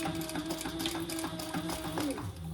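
A sewing machine runs a steady, fast top stitch along a long duffle bag strap, its rhythmic needle chatter close and continuous for a few seconds.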